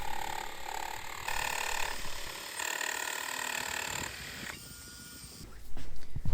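Two holes are cut into the side of a bare steel countertop, producing a steady high-pitched mechanical whine and grind in several sustained passes, close and fairly loud, that stops near the end before a brief louder clatter.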